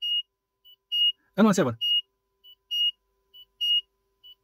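A beeping module on a 4-digit static LCD circuit gives a series of short, clear, high beeps at irregular spacing, with a brief spoken word between them.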